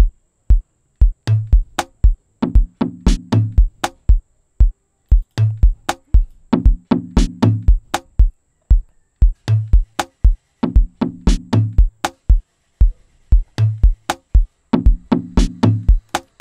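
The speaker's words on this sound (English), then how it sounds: "Like here I have my percussion which I created, which sounds like this" Self-made Amapiano percussion pattern built in FL Studio: sharp clicks and short tonal hits repeating in a looping syncopated rhythm, clean, dry and close, with no voices.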